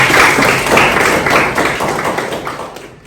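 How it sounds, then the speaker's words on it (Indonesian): Classroom of high school students clapping for a classmate, a dense patter of hand claps that starts strong and gradually tapers off toward the end, with no talking over it. "beri tepuk tangan untuk teman kalian"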